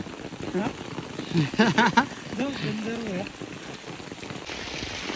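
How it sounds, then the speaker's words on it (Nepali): Steady rain patters on surfaces all around on Lipe hill in Lamjung, Nepal, while people talk nearby, their voices rising and fading as they walk through the downpour. "पानी पर्दैछ हामी चाहिँ यसरी हिँड्दैछौँ"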